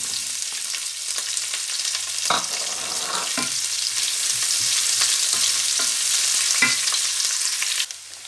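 Onion and garlic fry in a hot pan with a steady, close sizzle that holds for about eight seconds, broken by occasional clicks and scrapes of stirring, then drops off abruptly near the end.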